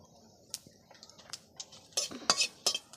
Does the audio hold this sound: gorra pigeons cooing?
no